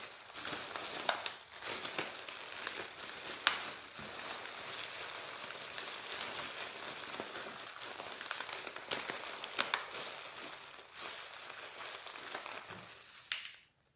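A plastic garbage bag full of food packaging and toilet paper is crumpled, pressed and packed down, giving continuous close crinkling and rustling with no talking.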